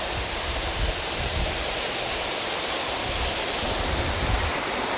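A jungle waterfall pours in a steady, dense broadband roar, with a low rumble beneath and no break across the whole stretch.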